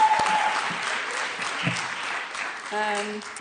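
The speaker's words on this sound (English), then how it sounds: "if we just have another big round of applause for all of our 7 fantastic projects" Sustained round of applause from an audience at a city builders pitch event, steady dense clapping throughout, with a brief tonal voice near the end.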